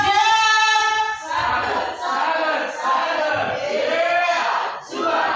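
A group of participants at a school workshop in Sidoarjo chants a rhythmic school yell in unison, loud and close with sung, pitched phrases broken by short pauses.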